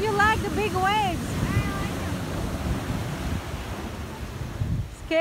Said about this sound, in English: How do you like the big waves?